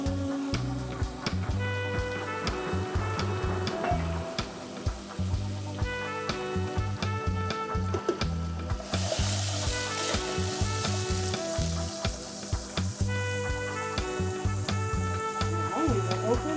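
Garlic and onion sizzling in a frying pan, a loud continuous crackle with stirring and scraping throughout and a brief louder hiss midway.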